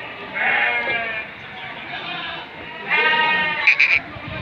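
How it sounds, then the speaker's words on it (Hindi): Goats bleating nearby at a goat market, two or three drawn-out wavering calls with a brief higher note near the end, loud and close. "ये भी बहुत बड़ा बकरा है।"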